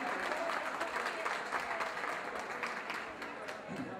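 An audience at a cultural evening applauds as a man is handed the microphone, the steady clapping fairly quiet and distant, with some voices mixed in, before it thins out toward the end.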